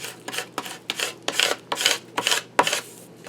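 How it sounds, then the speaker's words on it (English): A Cricut tool rubs down adhesive on a sticky folio in a run of seven short, dry scraping strokes, steady and close, with no talking. "I was using this Cricut to also burnish down"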